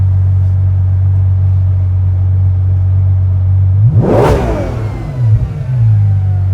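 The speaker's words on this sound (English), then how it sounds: "It revs so fast, so good." A Ferrari 12Cilindri engine idles with a deep rumble, then revs sharply in one fast, loud burst before settling back to a throaty idle.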